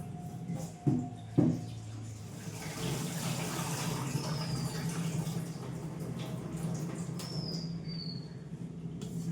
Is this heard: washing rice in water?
yes